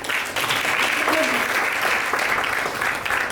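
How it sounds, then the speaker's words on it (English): Applause at a school presentation by students, a loud, dense burst of clapping from a large audience that holds steady throughout. "Please welcome her with a big round of applause."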